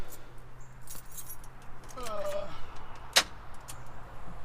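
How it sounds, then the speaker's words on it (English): Car keys jangle and rattle close by as they go into the ignition of a Cummins-swapped Jeep, a brief metallic clink standing out over a low steady hum. "let's put the keys in"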